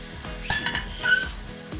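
A Konkan-style crab curry is stirred in a pan, giving a close, steady sizzle broken by a few quick spoon scrapes and clinks; no voices.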